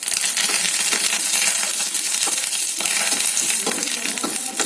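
Curry leaves hit hot oil in a pan with frying cashews and peanuts, giving a loud, dense crackling sizzle with sharp popping bursts that keeps up throughout.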